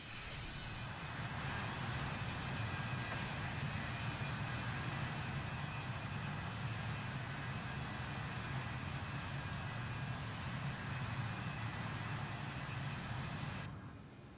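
An Avro RJ-85 airliner in Microsoft Flight Simulator 2024 climbs after takeoff, giving a steady, loud broadband engine roar with a low rumble that holds level throughout and cuts off near the end.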